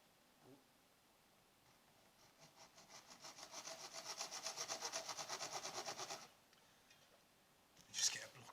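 Rhythmic back-and-forth rasping of a hand saw cutting through a block of wood for a tripod modification, building to steady strokes for a few seconds, then stopping, with a brief scrape afterward.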